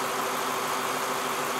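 A Lexus LS460 with its 4.6-litre V8 idles steadily, a close, continuous engine hum that stays even with no revving or other sounds.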